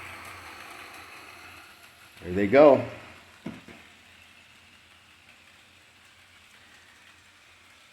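Model train locomotives, an Alco and an Athearn FP-45, run on a Christmas passenger layout with a faint steady whirring hum, briefly covered by a short spoken remark.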